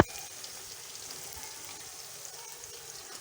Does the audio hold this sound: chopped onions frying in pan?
yes